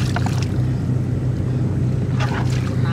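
A fishing net boat runs on a Mekong-area river with a steady, low engine drone and wind rushing across the microphone, while faint voices come and go.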